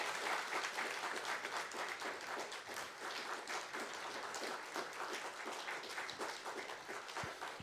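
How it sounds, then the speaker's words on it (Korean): A Sunday church congregation breaks into steady, dense applause during a presentation of flowers and a Bible, with many hands clapping together at an even level for the whole stretch. "우리 크게 한번 박수 보내주시기 바랍니다."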